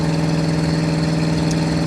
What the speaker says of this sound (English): It just has a good exhaust note to it.